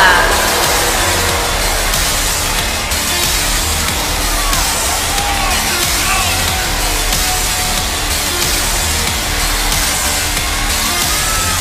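A crowd cheering at a wrestling arena in WWE 2K19 ahead of a Fatal 4-Way match, a loud continuous roar that holds steady throughout without clear breaks.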